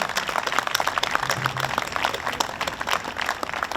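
A Veteran's Day parade crowd gives a sustained round of applause, dense and even clapping that carries on steadily throughout without any voices over it.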